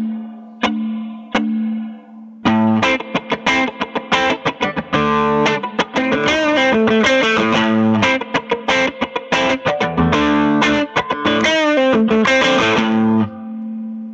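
Electric guitar boosted with a Spark Mini Booster pedal: a few sparse clean notes, then a loud, sustained driven lead ad-lib full of bends and fast phrases, played alone.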